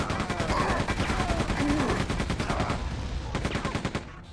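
Rapid gunfire and explosive grenade launches from a Gunner enemy in Quake 2 on Nightmare difficulty, a dense, loud volley of repeated shots that continues steadily throughout.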